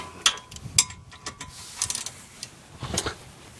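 A ratchet tightens the bolts on a 2010 Hyundai Sonata front brake, giving several quick, close clicking bursts with short pauses between them, and no one talking.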